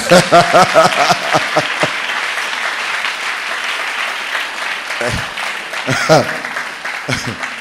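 A crowd claps at a religious gathering in praise of the Lord, loud and close, with dense rhythmic clapping that thins into a continuous wash and then picks up again in bursts.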